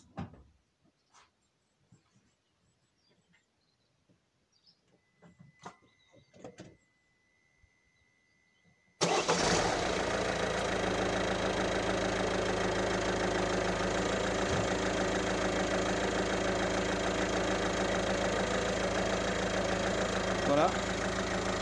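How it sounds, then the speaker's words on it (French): A 1.6 HDI diesel car engine cranks and fires after some quiet handling noises, then settles into a steady, loud, continuous idle. "Je vais démarrer le véhicule."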